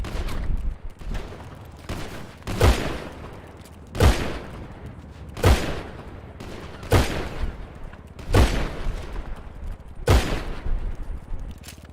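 Gunfire in a roleplay video game: about seven loud, evenly spaced gunshots roughly every second and a half, each a sharp crack with a booming tail, over a low steady background.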